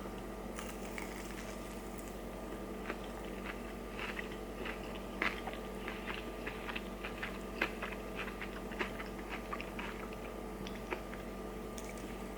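Bites into hot, freshly fried Raising Cane's chicken give sharp, crisp crunches scattered through twelve seconds of close chewing, with a steady low hum underneath.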